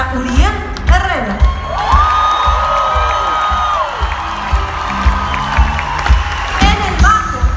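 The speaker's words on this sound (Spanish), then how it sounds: "Un aplauso para Uriel Herrera." A concert crowd at the Plaza Theatre in El Paso, Texas cheers, whoops and shouts with scattered applause, one voice calling out a long sustained yell over the noisy gathering.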